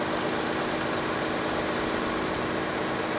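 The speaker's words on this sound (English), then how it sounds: "It's smooth. It's a good engine." An old V6 engine in a Toyota Tacoma pickup truck idles smoothly, a steady low rumble with faint mechanical whir, continuous and close with no speech.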